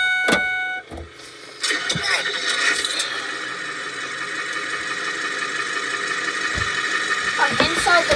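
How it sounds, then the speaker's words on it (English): Ford pickup truck starting and getting underway: a short horn blast and some clunks, then a steady engine hum that builds slightly as it drives, with people speaking now and then. "taking my Ford pickup truck for a drive here"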